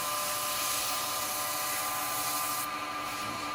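A turned wood birdhouse spins on a lathe while being buffed with a handful of wood shavings, making a steady loud rushing, rubbing hiss that holds constant throughout and eases slightly near the end.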